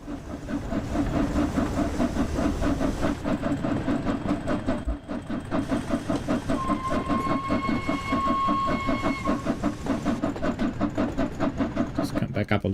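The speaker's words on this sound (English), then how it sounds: "Let's get rid of the large ejector, it's noisy." Large ejector on a steam locomotive in the Just Trains West Coast Main Line simulator, a steady loud hiss running throughout alongside rhythmic rail clatter, with a brief dip midway and faint whistle-like tones.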